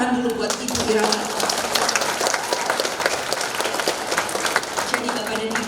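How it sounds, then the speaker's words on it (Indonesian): Audience applause for Ibu Irawati at a Sundanese dance event, a steady dense clapping that fills the whole stretch at strong level, with a voice talking faintly over it near the start and end. "Tepuk tangan dulu buat Ibu Irawati"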